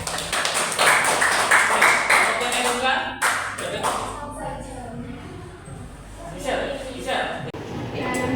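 Classroom students clapping in a guidance lesson, close, sharp bursts of applause with individual claps audible, mixed with voices talking over and between the clapping as it tapers and picks up again.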